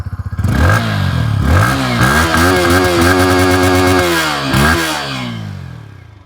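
Yamaha MT15 motorcycle, 2026 model, revving hard through its exhaust, loud and close, with rising and falling engine pitch over several seconds before easing back toward idle.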